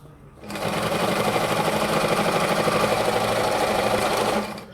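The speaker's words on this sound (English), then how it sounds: "Don't forget, I said you need to sew very close so it looks all neat and perfectly" A sewing machine runs steadily for about four seconds, stitching close along the edge of a placket on a mandarin-collar garment, with a dense, even mechanical whir that starts abruptly and stops.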